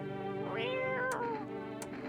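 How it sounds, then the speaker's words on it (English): A cat in the No, I'm not a Human video game gives one drawn-out, rising and falling meow, close and clear over a soft background hum. "Pet the cat."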